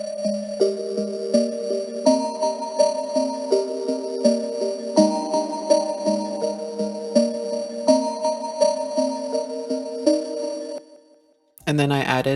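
A Serum synth preset, slowed by Gross Beat's halftime preset, plays a bell-like melody of repeated plucked notes in a steady loop, clear and upfront. A short burst of another sound closes it.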